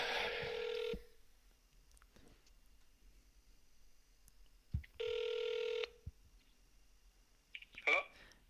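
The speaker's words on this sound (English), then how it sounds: "Oh, we got a call coming in." A telephone rings with an incoming call during a live call-in radio show, two loud steady ring bursts separated by a quiet gap, followed by brief clicking, with faint background talk.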